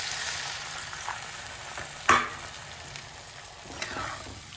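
A pan of food sizzles and crackles steadily after water is poured in, with one louder clatter midway and faint utensil taps, no talking.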